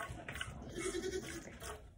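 A short, strained bleat from a Nigerian Dwarf goat during milking, heard close over low background noise and brief murmuring.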